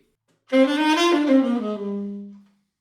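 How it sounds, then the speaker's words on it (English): A single wind instrument plays a short jazz-articulated scale run that settles on a held, fading final note, solo and close. "An example of jazz articulation would sound like this."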